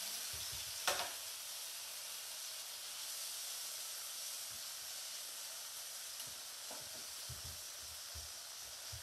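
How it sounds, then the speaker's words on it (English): A pork chop sizzles in a frying pan with ginger, giving a loud, steady broadband hiss of frying fat close up, with a few faint knocks and clicks from the pan and utensils. "So there's going to be a bit of sizzle there"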